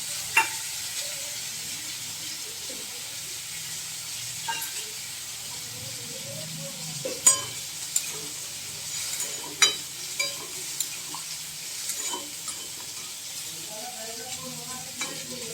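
Alu posto, a potato and poppy seed curry, simmers and sizzles in a pan on low flame, with a soft continuous hiss broken by occasional clicks and scrapes of stirring, quiet and close.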